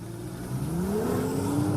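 A 2016 BMW M2 in 410 hp Competition spec, with its 3-litre straight-six, revs steadily with a rising, rich engine note. It sounds close and loud, with no talk.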